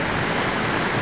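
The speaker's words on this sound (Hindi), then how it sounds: "क्या पानी बह रहा है" Steady, broad rush of flowing water filling the whole second, loud and close, with no pauses or other sounds.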